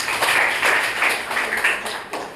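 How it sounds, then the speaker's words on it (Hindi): Loud, rhythmic group clapping from a classroom audience welcoming someone, a dense burst of hand claps close up that holds steady for a couple of seconds with little talk over it. "बहुत अच्छा, जोरदार ताली से स्वागत करें।"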